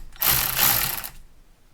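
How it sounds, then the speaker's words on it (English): A gear puller is threaded into a Chevelle steering column during disassembly, giving a close, loud metallic grinding and ratcheting burst that lasts about a second before fading to quiet. "And you thread this puller in, and as it threads in,"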